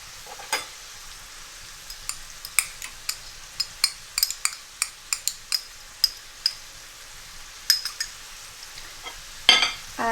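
Achar pickle sizzles in a hot pan with a soft, steady frying hiss under a series of sharp metallic clinks and scrapes from a spoon stirring against the pan, with no talk.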